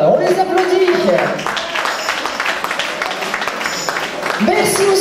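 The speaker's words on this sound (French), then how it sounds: "On les applaudit." Audience at a Lions Club charity dinner clapping, a mass of applause running under a voice on a sound system talking over it, steady throughout at moderate distance.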